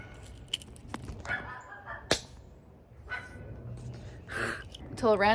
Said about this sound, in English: yippy little dogs